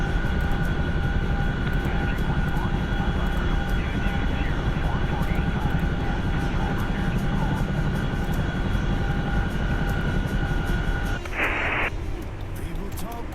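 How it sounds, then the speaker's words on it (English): Chinook helicopter in a war video game, a steady loud rotor and engine drone with tonal whine running throughout, dropping away briefly near the end as a short burst of noise cuts in; speech-like sounds mixed in. "sometimes I hate the Chinook just because the nav system's always messed up"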